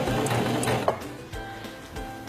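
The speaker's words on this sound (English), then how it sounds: "press and hold the reverse lever, and sew backwards a few stitches" A domestic sewing machine stitching in reverse with the reverse lever held, a quick mechanical whirring and clicking rhythm, close and moderately loud, running steadily for a couple of seconds with no voices.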